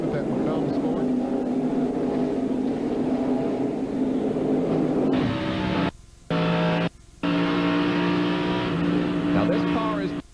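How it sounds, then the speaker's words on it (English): NASCAR stock cars roar around the track at the 1998 TranSouth Financial 400 in a loud, continuous engine drone. A commentator talks over the racing, and the sound briefly cuts out twice partway through. "David Green goes to the inside of Kevin LePage"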